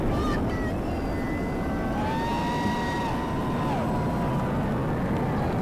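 Steady, loud, broadband roar of a rocket launching NOAA's GOES-U weather satellite, continuous throughout with faint voices or whistles rising above it.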